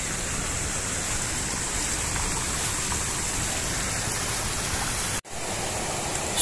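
A small river flows past an old Dutch-era dam, a steady, dense rushing wash of water that holds constant and loud throughout, with a brief dropout near the end.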